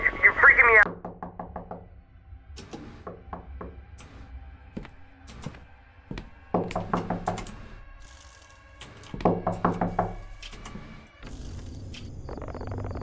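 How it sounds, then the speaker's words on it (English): Knocking on a door in the video game Fears to Fathom comes in several bursts of rapid, hard raps, close and distinct, separated by quieter pauses with faint clicks and game ambience. "I've been knocking for hours."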